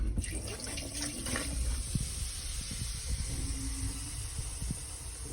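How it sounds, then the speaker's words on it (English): Vinegar poured down the drain hole of a dishwasher makes a steady watery trickle and splash with a low gurgling undertone, close by and continuous for several seconds. "I get some vinegar and I pour it down in the hole."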